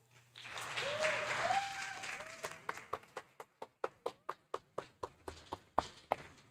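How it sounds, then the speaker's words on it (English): At an English competition final, an audience breaks into a burst of applause that thins into a run of sharp, evenly spaced single claps, fairly close and loud, with no talking over it. "Please give her a big round of applause."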